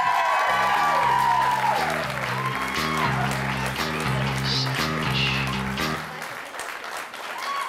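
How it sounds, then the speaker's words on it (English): Applause and crowd noise greet a woman contestant at an office-worker comedy competition, a steady broadband patter with cheering voices over music that drops out near the end. "Give her a round of applause, everybody."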